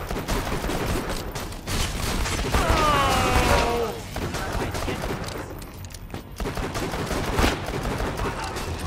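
Pistol shots ring out in the Borderlands 2 video game, a run of sharp cracks in quick bursts with echoing impacts and game effects, loud and close over a busy background.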